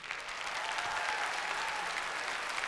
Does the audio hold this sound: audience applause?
yes